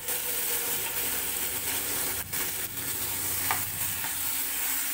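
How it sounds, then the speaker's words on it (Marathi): Garlic and green chili paste fries in hot oil, a steady close sizzle that fills the whole stretch, with a few brief stirring scrapes and clicks on top. "लसूण आणि हिरवी मिरचीची जी पेस्ट केली होती ती फ्राय करून घ्यायची आहे."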